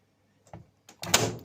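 A washing machine door is pushed shut on a home appliance just set to a fast 60-degree wash, giving a soft click followed by a firm, close thud with a brief rattle.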